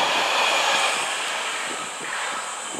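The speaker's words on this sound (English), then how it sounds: "The locomotive is a Kawasaki DF200 diesel, modified from the widely used DF200 freight hauler." The Seven Stars in Kyushu luxury cruise train passes, hauled by a modified Kawasaki DF200 diesel locomotive, giving a loud, steady, close rushing rumble of engine and rolling wagons throughout.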